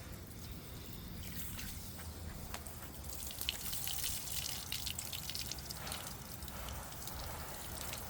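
Water trickles and drips steadily onto a moss bowl planted with yard moss, a soft continuous splashing close by with scattered droplet patter and no voices.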